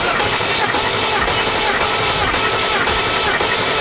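A BMW 335i engine cranks on the starter during a compression test, producing a loud, continuous churning drone with regular rhythmic pulses about twice a second and no break for the whole stretch.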